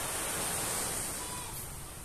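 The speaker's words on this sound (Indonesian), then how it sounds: "Suara ombaknya" Ocean waves wash in a steady, broad rushing hiss on a calm beach, close and fairly loud, with no break in the surf sound and no voices.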